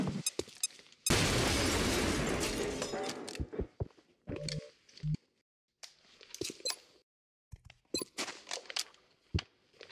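A single grenade explosion bursts loud and close, then rolls off over about two seconds, followed by sparse clicks, taps and mechanical handling sounds with short silences between.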